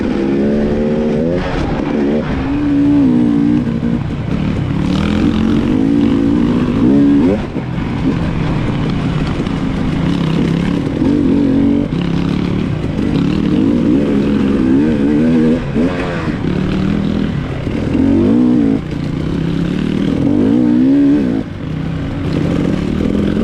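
A dirt bike rips along double track at the Durhamtown off-road park, its engine loud and close the whole time, revving up and easing off in waves.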